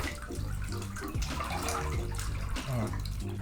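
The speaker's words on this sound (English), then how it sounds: "I gotta rinse off real quick." Running water splashes steadily as someone rinses off beneath it, a close, continuous rushing wash with faint voice-like tones mixed in.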